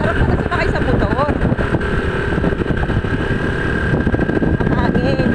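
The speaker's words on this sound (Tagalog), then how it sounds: "Ang bilis na aming masarap na sumakay sa motor." A motorcycle being ridden fast, its engine droning steadily with strong wind rushing past the microphone, as riders chat over the noise.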